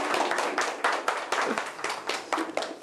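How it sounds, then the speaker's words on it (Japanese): Audience applause welcoming a presenter at a computer school appreciation event, a steady run of moderately loud, sharp hand claps from a small group filling the room. "じゃあ皆さん拍手でお迎えください。"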